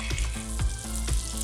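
Butter melting in a hot pan for a chilli cheese egg toast breakfast, a steady close sizzle with a few soft scraping strokes.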